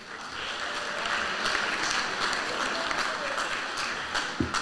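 Steady audience applause at a high school senior awards ceremony, a dense, continuous clapping from a large crowd that holds throughout.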